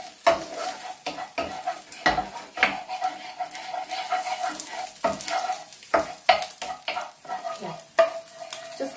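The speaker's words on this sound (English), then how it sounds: "Stir it up like you're making scrambled eggs" A utensil stirs chicken curry in a frying pan, making repeated scraping strokes against the pan in an uneven rhythm over a soft, continuous sizzle, close and fairly loud.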